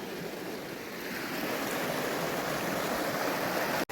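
A river flows in a continuous broad rush of moving water, steady and fairly loud throughout, with no voices.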